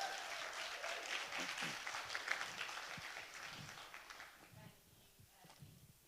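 An audience gives applause for the final presenters at a care-focused leadership event, a dense burst of clapping that fades over the last seconds as voices and footsteps emerge.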